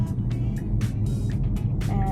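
A Tesla on FSD beta drives between Enfield and Elmsdale, Nova Scotia, giving a loud, steady road rumble heard from inside the car, with a few soft ticks over it.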